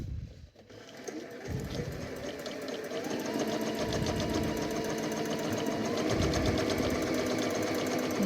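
A sewing machine runs steadily, doing free-motion stitching to darn a hole in jeans. Its needle makes a fast, even mechanical whir that speeds up a little after a short start. Faint talk sits under it.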